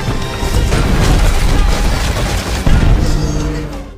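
Gunfire aimed at a fire truck in an action film chase, heavy booming shots and crashing impacts in a dense loud burst, with a sharp blast near the end.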